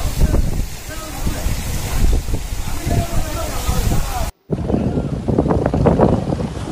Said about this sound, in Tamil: காத்து பலமா வீசிக்கிட்டு இருக்கு.